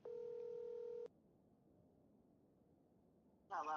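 A phone plays a FaceTime call tone, a bright electronic chime lasting about a second, then near silence before another chime starts, faint and close.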